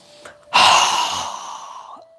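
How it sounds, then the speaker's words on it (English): A single strong open-mouthed exhale during a yoga breathing exercise, a loud breathy rush that starts abruptly and tapers off over about a second and a half, heard alone with no talking. "exhale with our mouth open wide with a strong exhale"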